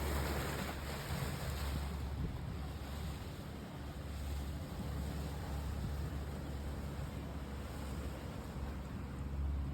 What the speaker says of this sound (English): a speedboat arrives and starts heading us towards the resort